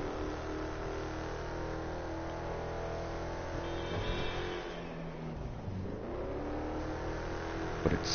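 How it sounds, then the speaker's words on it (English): A car engine in GTA Online revs loudly and continuously, with a slow-shifting transmission audibly dropping pitch partway through as it changes gear before climbing again, close and without speech. "Guessing I need to upgrade the transmission because this thing shifts really slow."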